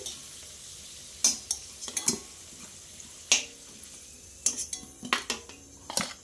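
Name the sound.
potatoes frying in oil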